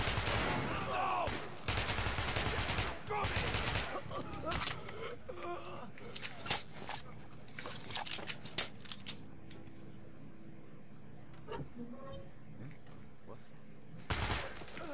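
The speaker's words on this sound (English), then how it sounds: "And he didn't even hear all that gunfire" Gunfire in the video game Metro Last Light comes in loud, dense bursts during the first few seconds, then thins into scattered shots and clatter over a steady background hum, with one last burst near the end.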